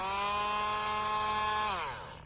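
A high, steady whine of a Dremel rotary tool at high speed sanding metal earring components, loud and close, pitching down as it eases off at the end.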